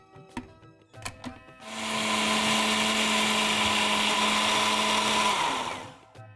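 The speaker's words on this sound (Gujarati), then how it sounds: "આ મગની દાળ છે, આપણે એને મિક્સર ગ્રાઇન્ડરમાં ગ્રાઇન્ડ, તેની સાથે આપણે લીલા મરચાં નાખી દઈશું" A mixer grinder grinds moong dal with three whole green chillies, a loud steady whirring roar lasting about four seconds after a few short clicks and knocks, then winding down.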